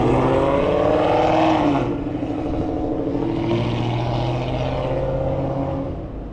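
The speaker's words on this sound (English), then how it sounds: "if a car is that loud, can they at least drive faster?" A loud car passes by outside, its engine roaring close and steadily for several seconds, with the pitch shifting slightly as it goes past and slowly fades.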